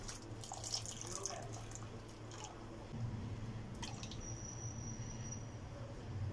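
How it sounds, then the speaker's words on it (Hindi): Milk is poured into custard while a spoon stirs it gently, making soft liquid trickling and light wet clinks at close range, with a faint hum beneath. "अब इसमें हल्के हाथ से चम्मच चलाते जाएंगे और दूध को इसमें ऐड कर देंगे।"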